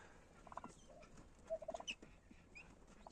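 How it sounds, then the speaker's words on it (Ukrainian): Young turkey poults and guinea fowl chicks, hatched from farm turkeys, give a run of faint, high peeping chirps spread through the clip, with soft background noise and no talk. "Тут у нас індичатка і тут у нас цесарятка."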